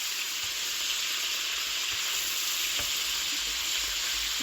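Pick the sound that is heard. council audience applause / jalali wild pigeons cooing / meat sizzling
meat sizzling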